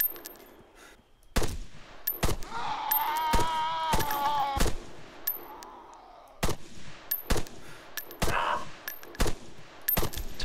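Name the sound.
gunfire from the video game Arma 3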